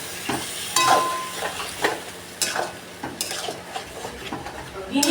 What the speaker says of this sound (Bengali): মশলা দিয়ে ভালো করে কষাবো